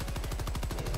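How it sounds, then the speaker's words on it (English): Rapid automatic gunfire from Helldivers 2 rattles continuously and loudly, close up, as a steady stream of shots with no talk over it. "I'm trying to shoot his tail."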